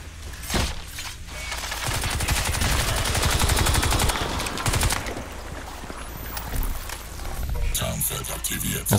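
Heavy machine gun fire in Crysis 2, dense rapid bursts of gunfire and battle noise running most of the way through, loud and close, with a voice talking over part of it.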